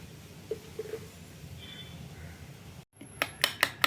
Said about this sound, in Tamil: போர்க் வச்சு நல்லா அடிச்சுக்கலாம்.